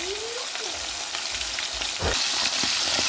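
Fish sizzling in hot oil in a frying pan, a steady loud crackle with a few stirring scrapes and bubbling pops, close up with no talking.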